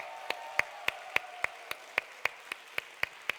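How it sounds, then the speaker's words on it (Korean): A congregation at a Friday Holy Spirit service at Gumi Gangdong Church claps together in a steady, even beat, about a dozen sharp claps in a row over a faint sustained hum. "우리 청년들 다음 세대를 향해서 큰 박수로 격려하겠습니다."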